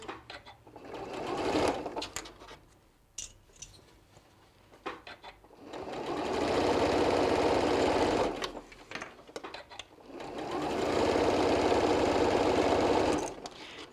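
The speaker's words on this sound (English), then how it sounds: "continue to back stitch over that as well" A sewing machine back stitching over fabric runs in two long steady whirring bursts, close and loud, separated by quieter handling clicks and pauses.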